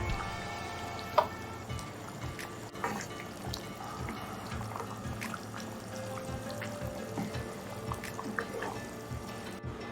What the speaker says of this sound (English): To this we add now 2 cups of water.